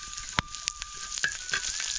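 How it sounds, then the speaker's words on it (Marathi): Cumin and garlic sizzle and crackle in hot oil on a griddle, with a few sharp pops standing out over a steady frying hiss. "तवा गरमच आहे त्यामुळे जिरं पटकरणं आपलं तडतडणार आहे"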